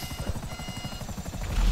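A video game helicopter drones with a steady, fast rotor chop, loud and close, continuing throughout with no speech over it.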